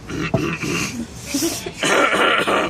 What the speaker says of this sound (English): Someone's coughing everywhere.